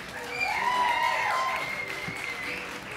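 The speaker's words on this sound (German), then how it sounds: "Bitte begrüßt einmal mit herzlichen Applaus Max am Schlagzeug." A festival crowd claps for a new drummer in a band's outdoor set, steady applause of moderate loudness with a whistle-like tone over it, brief and without talk.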